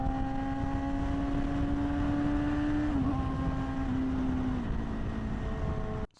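A motorcycle fitted with a bar stabilizer cruising at highway speed, around 70 miles an hour: a steady, droning engine hum with a constant pitch and rushing wind noise, ending abruptly.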